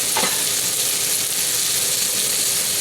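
Veal pieces browning in a thick-bottomed skillet, a loud, even, close sizzle and hiss throughout with a brief clink near the start.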